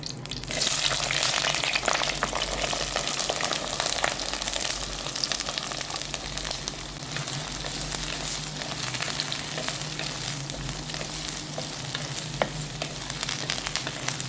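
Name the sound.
shallots, curry leaves, green chilies frying in oil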